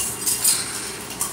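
Small toy cooking dishes, cups and pans clinking and clattering together close by in a brief burst of light metallic chinks, with no talking.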